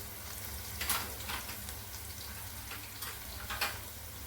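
Onion with turmeric and spices frying in a pan for masala onion kurdai, a soft continuous sizzle with a few louder stirring scrapes, heard alone at moderate level.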